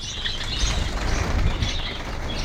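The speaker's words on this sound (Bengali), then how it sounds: "এখন রয়েছি পুরো জাভার ঘরে যে ঘরটার মধ্যে শুধু জাভা পাখি রয়েছে" Java sparrows flutter in a room of a bird farm, a close flurry of wingbeats with scattered faint chirps over a steady background.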